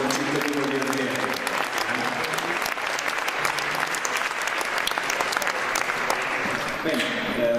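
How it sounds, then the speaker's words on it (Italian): Sustained, loud audience applause at a fantasy and horror film awards event honors a local musician from Orvieto, with voices and some tonal sound mixed in beneath the clapping. "Un applauso a questo concittadino di Orvieto."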